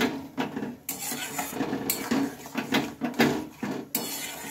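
Cabbage being stirred in a cooking pan with a utensil, giving irregular scraping and clinking strokes against the pan, close and fairly loud, with no talking.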